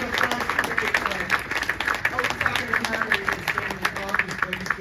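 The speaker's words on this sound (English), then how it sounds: "Big round of applause for Barry Carr." A conference crowd at CSICon applauds organizer Barry Carr with steady, lively clapping and distinct individual claps, close and sustained for several seconds.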